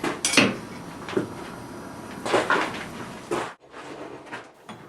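A hot steel bar clamped in a vise, struck on its ends to upset the metal, rings out with a few sharp hammer blows spaced irregularly, close and loud, then a brief quieter tail.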